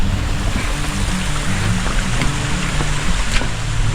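Small waterfall beside a forest trail on the Bhimashankar trek, giving a steady broadband rush of falling water that stays loud and even throughout, with no talking.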